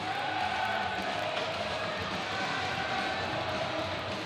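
A crowd at a Danbury Hat Tricks vs Watertown Wolves hockey game fills the arena with a constant roar of voices and cheering, heard from a distance and holding at a steady level.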